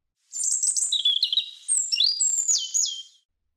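Bright, high bird chirps in two quick bursts of twittering notes, close and clear with no other sound around them.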